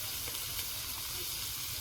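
Chopped tomato, beans and peas sizzle together in a frying pan for a potato curry, a soft, steady hiss and crackle heard fairly faintly with no talking.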